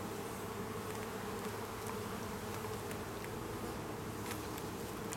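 Honeybees swarming around an open beehive during an inspection: a dense, steady, close buzz that continues throughout with no pauses.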